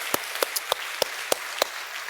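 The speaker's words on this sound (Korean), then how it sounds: "박수 한번 하십시다" Slow, sparse claps in a church, about seven sharp hand claps spaced evenly apart over a quiet background, rather than a full congregation's applause.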